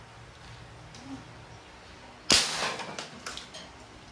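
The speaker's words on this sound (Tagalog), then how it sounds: "Okay, Crossman mission, firing." A Crosman Mission break-barrel air rifle fires once, giving a single sharp, loud crack followed by a brief fading rattle and a few small clicks, set against a quiet background.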